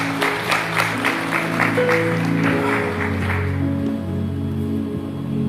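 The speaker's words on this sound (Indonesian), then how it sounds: "Berikan tepuk tangan yang meriah buat Tuhan." A church congregation applauds during a Sunday healing service, with rhythmic clapping that swells early and then fades out, set against sustained organ or keyboard tones and a faint voice.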